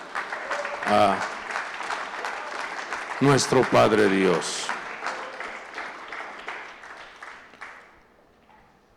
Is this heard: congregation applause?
yes